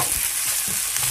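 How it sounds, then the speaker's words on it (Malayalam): Samosa filling stirred as it fries in a large pan after salt goes in: a loud, continuous sizzle with scraping, clattering stir strokes throughout, no talking. "വീണ്ടും ഇളക്കുക"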